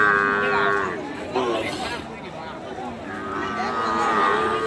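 Young red bull calves at a busy cattle market give loud, drawn-out moos, one near the start and another toward the end, over a background of people talking.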